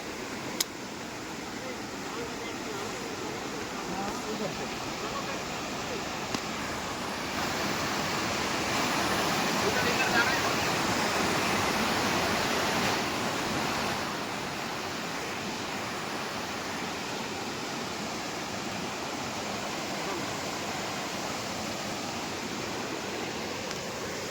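Fast-flowing river water at Nainital, a broad, steady rushing roar that swells slightly midway, close and continuous, with no clear voices.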